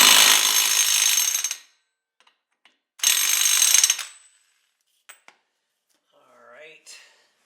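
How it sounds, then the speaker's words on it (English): An impact wrench tightens a castle nut on the rear axle of an Arctic Cat 4WD ATV in two loud, close rattling bursts separated by a pause, followed by small metallic clicks and a brief faint voice. "we'll put it reasonably tight with the impact"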